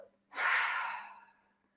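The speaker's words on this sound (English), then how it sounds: "as you're breathing out, breathe out through the heart and the throat" A single deep exhale through the mouth during a throat chakra breathing exercise, a soft close breathy rush that swells quickly, then fades over about a second in a quiet room.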